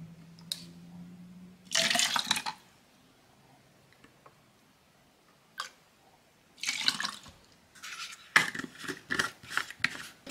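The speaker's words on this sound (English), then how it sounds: "add 2 cups of water" Two cups of water are poured into a plastic case holding a Disney princess color-reveal doll. Several separate splashing, trickling bursts sound up close, split by quiet pauses, and the pouring grows busier toward the end.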